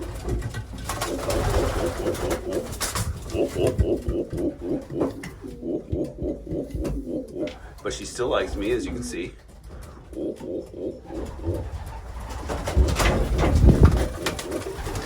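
Racing pigeons coo repeatedly in soft, throaty rolls close by, with someone talking over them almost throughout.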